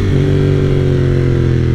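A 1995 Ducati 900 SS/SP motorcycle engine runs loud and close with a steady, deep throbbing drone, holding an even, rich tone throughout with no voices over it.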